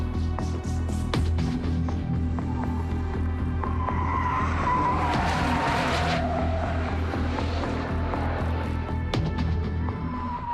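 A Porsche 911 Turbo convertible with all-wheel drive runs fast on a racetrack, its loud continuous engine drone joined by tire squeal and rushing wind across several seconds.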